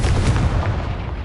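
A Confringo fire spell explodes in the Hogwarts Legacy video game, a loud, dense booming blast with rumbling low end that holds steady for about a second before easing off, with no talk over it.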